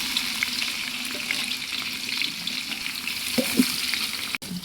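Onions frying in oil in a pan while making tamarind rice, with a steady bright sizzle and a few soft stirring scrapes near the end, close and alone.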